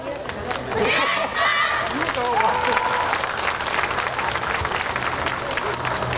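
An audience at a YOSAKOI dance festival in Daigo, Ibaraki, applauds and cheers for the Mai TAKANEさん team, with dense, steady clapping and crowd noise held loud throughout. Voices call out over it.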